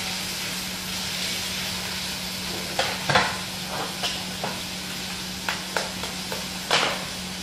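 An egg fries in a pan, cooking with a little cinnamon, giving a steady close sizzle punctuated by several sharp crackles and pops, with no talking.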